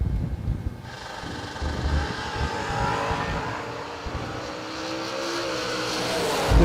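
Drag racing cars, including a red Sonoma and a lime green Camaro, launching down the strip, a loud engine roar building and rising in pitch as they accelerate away, heard from trackside without talk.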